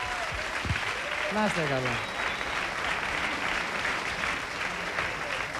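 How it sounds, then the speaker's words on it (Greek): A studio audience on a live Greek reality show applauds for Cyprus, steady and broad, while a voice briefly speaks over the opening of the clapping. "Η Κύπρος ένα χειροκρότημα μπορεί να ρίξει, ρε παιδιά, με αντιπρόσωπο"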